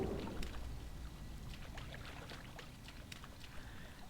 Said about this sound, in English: Come down through the waterfall.